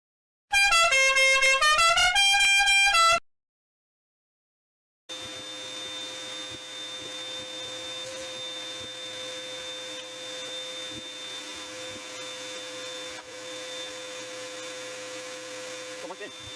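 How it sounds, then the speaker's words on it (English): A small mini shop vac runs steadily while clearing lint from a clothes dryer's blower motor, a constant whine with a sustained tone, preceded by a brief loud burst of stepped tones and a short silence. "I'm gonna try and clean it all out with the little mini shop vac I got here."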